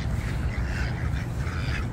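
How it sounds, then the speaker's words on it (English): A flock of ducks quacks continuously, close and busy, over steady rushing noise that may be wingbeats as the birds take off together. "That was a lot of birds flying at once."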